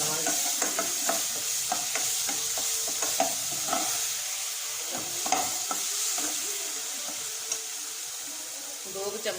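Spices frying in hot oil for a jackfruit curry, with a steady, close sizzle and repeated scraping stirs of a spoon against the pan throughout.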